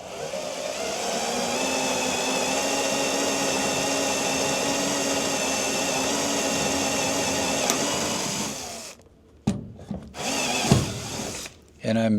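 A power drill turning a reamer through rivet holes whines steadily at an even pitch for several seconds, then cuts off and restarts in short bursts with quiet gaps between.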